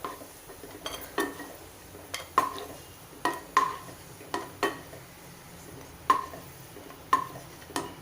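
Roasted cashews being scooped out of a pan of hot ghee, with a series of light metal spoon clinks and scrapes against the pan at irregular intervals, quiet and close, without speech.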